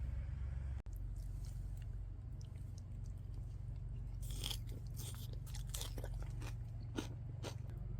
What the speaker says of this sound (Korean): 무도 하나 올리고 당근과 사과도 이렇게 넣어서 한번 먹어보겠습니다.